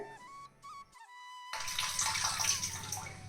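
Water splashes as someone washes their face. After a quiet stretch with faint background sounds, close, soft splashing and rinsing start and run for about two seconds at low volume.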